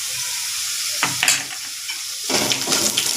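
A spoon stirs turmeric and salt through a hot cooking pan, sending out a few sharp scrapes and clatters over a continuous background sizzle.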